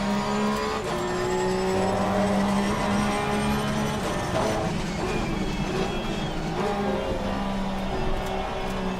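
Porsche Cup race car engine droning steadily at Paul Ricard in a racing game, a continuous close roar with shifting pitch, faint tyre squeal and other cars running together throughout.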